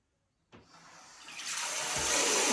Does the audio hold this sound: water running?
yes